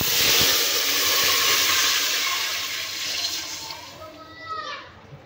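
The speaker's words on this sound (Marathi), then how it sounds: "घालू पाणी" Water poured into a hot pot of cumin seeds tempered in oil for jeera rice sends up a loud, rushing hiss that gradually fades and thins over several seconds.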